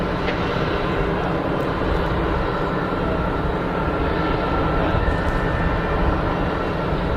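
An easyJet airliner on final approach at Geneva Airport in heavy rain, its engine roar a steady, loud, broadband wash that holds evenly throughout with no talk.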